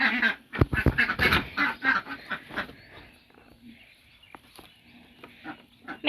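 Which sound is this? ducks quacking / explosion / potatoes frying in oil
ducks quacking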